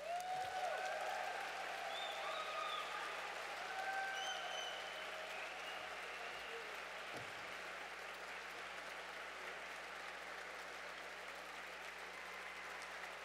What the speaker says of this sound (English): Please give your full applause